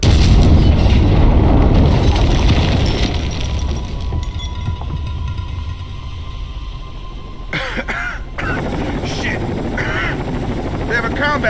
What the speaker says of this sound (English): Combat chopper here.